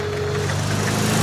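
A motorcar engine from an audiobook sound effect drones steadily and loudly at close range, a constant low rumble with no pauses.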